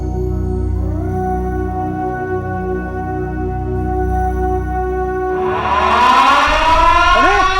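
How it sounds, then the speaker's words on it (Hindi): A loud, steady wailing mill siren drones continuously, with a rising, sweeping tone swelling in near the end. "सायरन बज चुका है"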